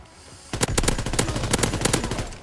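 An M1941 rifle fires rapidly in Call of Duty: WW2, a loud, close, sustained string of evenly spaced shots beginning half a second in and continuing to the end.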